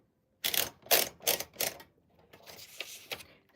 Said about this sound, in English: we will be making some wonderful typewriter ASMR together